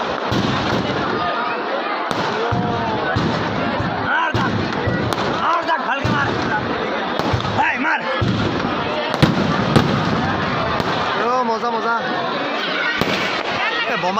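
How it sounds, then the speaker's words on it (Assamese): Firecrackers burst repeatedly during a Ravana effigy-burning celebration in Assam, loud cracks and bangs popping in quick irregular succession over a crowd's noisy background chatter. "বোমা কিন্তু ফুটাইছি"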